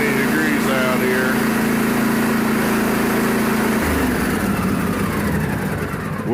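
A small engine idles and warms up outdoors in roughly 20-degree cold, a steady close-up rumbling hum whose pitch and tone drop partway through as the throttle is eased back.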